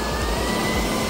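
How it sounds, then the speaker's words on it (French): A cordless vacuum cleaner runs at full power with a loud, steady whine and a continuous airy roar, with no breaks and no talking. "La tête, la rotation de la tête de l'aspirateur est parfaite."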